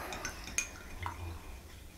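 A spoon stirring a tablespoon of clover honey into a cup of tea, with light metallic clinks against the cup and faint swishing, quiet and close.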